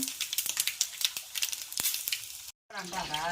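Fenugreek powder, turmeric and cumin tempering crackles and sizzles hard in hot oil for a tamarind pickle, loud and busy with sharp pops, then breaks off abruptly before a voice speaks.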